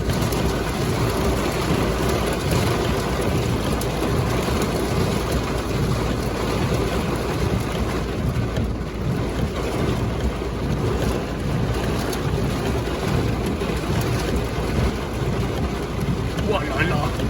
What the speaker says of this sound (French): Oh les rafales!